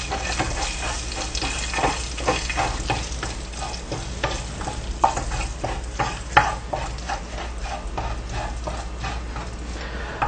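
Whole cinnamon, cardamom and cloves fry in hot oil in a pan, a steady close sizzle broken by frequent crackles, pops and scraping stirs throughout, no voices.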